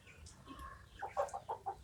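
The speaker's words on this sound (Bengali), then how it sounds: "এই আমাদের সিল্কি কলম্বিয়ান সিল্কি মুরগির বাচ্চাগুলো" Two-month-old Colombian Silkie chicks clucking nearby, a quiet stretch giving way to a run of five or six short, evenly spaced clucks that grow louder toward the end.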